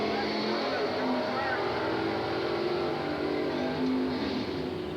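Drag racing car with a big 455 Pontiac engine at the 1983 Englishtown Springnationals, roaring loudly and steadily without a break from start to finish.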